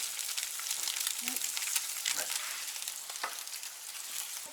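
A whole container of spinach with garlic sizzles and crackles steadily in a hot pan while a side dish is cooked, a continuous close frying hiss with occasional stirring scrapes.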